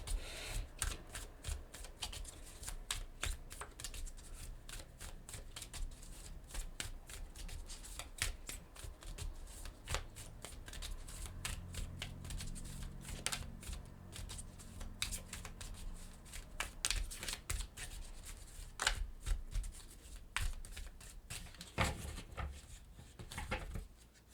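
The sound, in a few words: shuffling oracle cards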